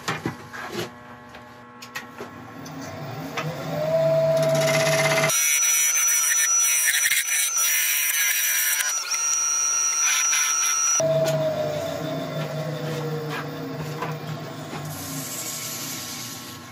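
A wood lathe spins a wooden bowl during woodturning, giving a steady hum with scraping of the tool on the wood. A louder, harsher stretch in the middle is followed by a quieter return to the hum.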